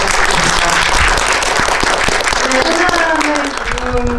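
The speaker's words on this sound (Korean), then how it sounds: "오늘 정말 감독님께 박수 부탁드립니다" Dense, loud applause from a cinema audience at a special screening with the film director present, a steady wash of many hands clapping throughout with some faint voices mixed in.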